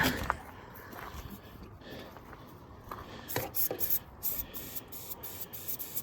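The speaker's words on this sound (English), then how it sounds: "let's try a bit more spray fuel" Short hissing bursts of fuel sprayed into a motorbike engine, several in quick succession, close by over quiet mechanical background noise.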